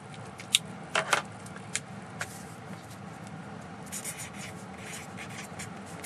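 Pen or pencil writing a letter by hand on paper during a Thai-taught English test lesson, with short close scratchy strokes and a few light taps, no talking.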